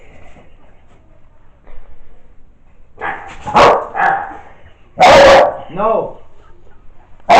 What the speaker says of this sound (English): Stop barking.